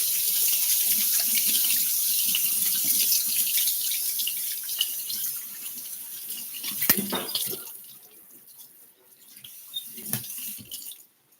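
A tomato is rinsed under a running kitchen faucet, a steady close splash of tap water into the sink that carries on for several seconds, then thins and breaks up with a few louder drips and splashes as the fruit moves under the stream.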